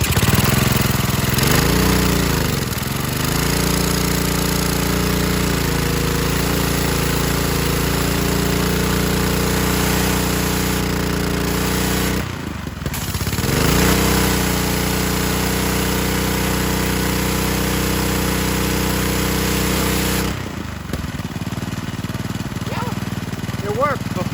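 A Ryobi pressure washer's small gas engine runs loud and steady after a freshly cleaned carburetor, its drone dipping and recovering twice as the revs sag and pick back up, close to the microphone.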